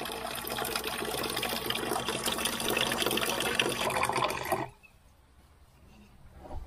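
Water gushing into a steel dog bowl in a steady, loud splashing stream for about four seconds, then stopping abruptly into near quiet.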